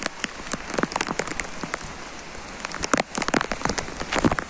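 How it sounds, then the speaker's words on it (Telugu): Heavy rain pours down in Chennai, a dense steady hiss broken by sharp, scattered drop impacts close by, with no voices. "ఫుల్ వర్షం."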